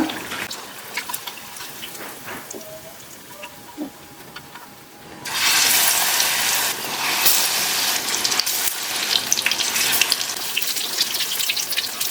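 Bottle gourd bajji fries in oil over a medium flame, a broadband sizzling hiss that is quieter at first, then surges loud and steady about halfway through and keeps crackling to the end.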